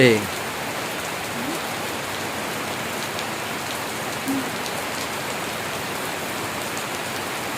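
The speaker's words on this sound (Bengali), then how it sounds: "ঝমঝম বৃষ্টি পড়ছে।" Heavy rain pours steadily onto a shed roof, a dense, even hiss that stays loud and unbroken throughout.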